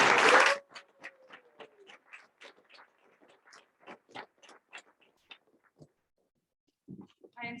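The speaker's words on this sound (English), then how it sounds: "Let's give them another big round of applause." A brief burst of audience applause for apprenticeship graduates at a graduation and signing ceremony, starting with a dense clapping burst that quickly thins to scattered individual claps in a hall.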